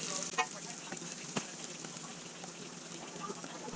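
Potatoes fry with onions in butter in a pan, giving a soft, steady sizzle with scattered pops and a few stirring knocks, fairly faint and without speech.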